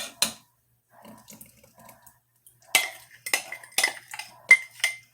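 Beaten egg mixture with vanilla extract being added to Texas sheet cake batter in a bowl: sparse clinks and scrapes of a utensil against the bowl, a few soft taps, then a cluster of sharper ringing knocks, with no talking.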